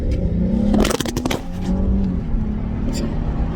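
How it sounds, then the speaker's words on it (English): Nissan 350Z Fairlady Z engine fitted with a GKtech plenum spacer, revving hard in a loud sharp burst near the start, then settling into a steady, rumbling idle close by. "The engine sounds way more aggressive."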